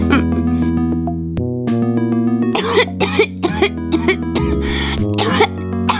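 Harsh, repeated coughing bursts in quick succession over a steady musical tone from the PC game Dinotopia, close and loud.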